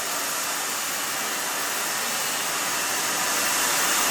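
A hair dryer blows steadily on a client's short pixie cut, a continuous broadband whoosh close by that holds level for the whole stretch with no talking over it.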